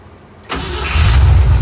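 A 1969 Chevy C10 engine cranks and catches about halfway through after a quiet start, then settles into a loud, close, rumbling idle.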